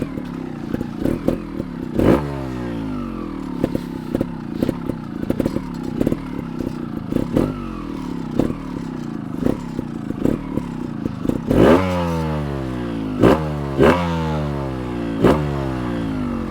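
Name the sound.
2021 GAS GAS 300 TXT Racing trial motorcycle engine accelerating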